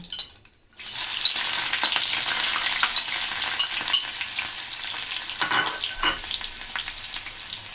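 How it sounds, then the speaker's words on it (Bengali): Garlic sizzles in hot oil for a tempering, a steady loud crackling fry that starts after a brief quiet moment and continues with occasional stirring clinks of a utensil against the pan, in a home kitchen in Dhaka. "রসুনের বাগার দিব, রসুন দিয়ে দিলাম।"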